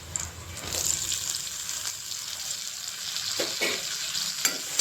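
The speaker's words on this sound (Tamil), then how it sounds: "இதை நல்லா வதக்கணும்." Onion and tomato frying together in a pan for homemade sambar, a steady sizzle broken by several scraping stirs of a spoon, close and moderately loud, with no speech.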